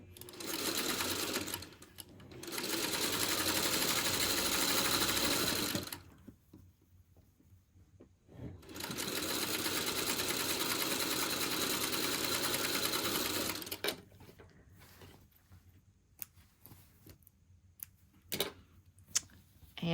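A Singer 301 sewing machine stitching quilt block fabric, running in two sustained bursts of steady, fast mechanical whirring with a short pause between, then quieter handling noises near the end.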